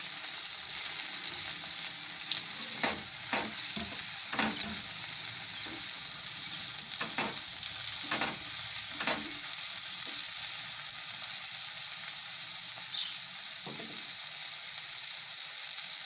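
Thecha chutney with salt is mixed in a hot pan: a constant sizzling hiss runs throughout, broken by a handful of sharp scraping strokes of the spoon.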